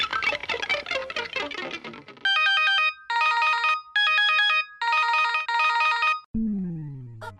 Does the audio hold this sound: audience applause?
no